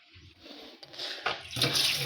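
Water runs through a sink P-trap drain hose, starting as faint intermittent trickles, then building into a louder gurgling rush by the end, close and unaccompanied by speech.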